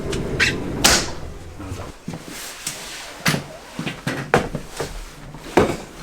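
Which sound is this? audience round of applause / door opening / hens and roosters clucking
door opening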